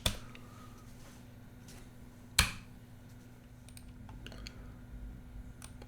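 A few sparse, light keystrokes on a computer keyboard while tag names are typed into PLC ladder-logic software, with one sharper click partway through over a quiet room hum.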